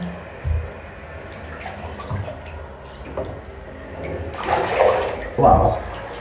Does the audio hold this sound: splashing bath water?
yes